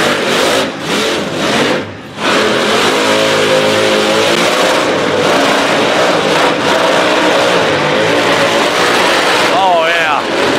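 A car doing a burnout at a Stafford Speedway burnout competition holds a loud, sustained high-rev engine roar with brief dips, while a crowd and an announcer-like voice sound underneath.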